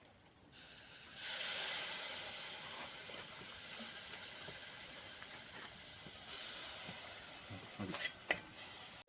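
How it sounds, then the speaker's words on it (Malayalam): Hot water poured into a masala puttu mix, a steady hissing steam-like sizzle that starts abruptly and runs fairly quietly throughout, with faint clicks near the end. "പിന്നെ നമുക്ക് ലേശം ചൂടുവെള്ളം ഇതിലേക്ക് ഒഴിച്ചു കൊടുക്കാം."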